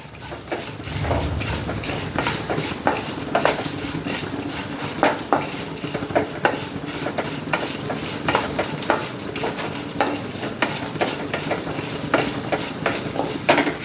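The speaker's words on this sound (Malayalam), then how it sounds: "ഇതെല്ലാം ഒന്ന് നമുക്കൊന്ന് റോസ്റ്റ് ചെയ്തെടുക്കാം" Sesame seeds, cashews and raisins roasting in a pan, a continuous close sizzle with a spoon stirring and scraping against the metal in steady repeated strokes, no talking.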